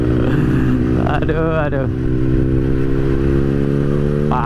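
Motorcycle with a loud open exhaust revving on a ride to a mall, a steady, close, blaring engine drone with a quick rising rev burst partway through, while a rider briefly exclaims over it.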